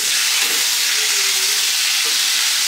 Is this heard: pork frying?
yes